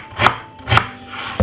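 A knife cuts fresh peeled ginger into small pieces on a board, giving three distinct, close chopping strokes with rubbing scrapes and brief pauses between them, with no talking.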